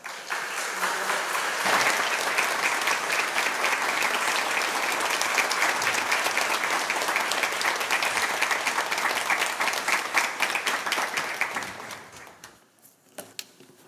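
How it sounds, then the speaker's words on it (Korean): Church congregation giving a big welcoming round of applause as a visiting pastor comes forward at an anniversary Sunday service, loud sustained clapping that tapers off into a few last claps. "우리 현유광 목사님께서 나오실 때 여러분들 큰 환영의 박수 부탁드립니다"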